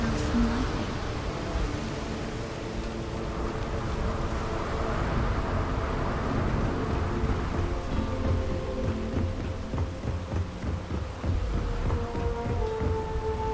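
Heavy rain falls steadily over the lightning-powered city of Neon in the game Starfield, with a loud thunder crack at the start and rumbling thunder rolling beneath the constant downpour.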